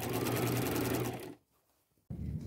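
A sewing machine runs a steady, close, loud stitching whir along the folded half-inch hem of an upcycled patchwork maxi skirt, stops briefly into near silence, then starts up again.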